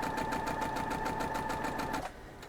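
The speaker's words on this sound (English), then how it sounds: "I'm just going to sew down this real quick." A sewing machine runs steadily with a rapid, even stitching whir as it joins 2-inch fabric squares into four-patches for a quilt block, then stops abruptly near the end.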